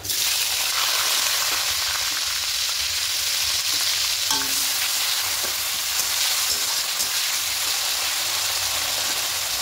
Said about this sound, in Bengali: এবার পেঁয়াজটা লাল করে ভেজে নেব।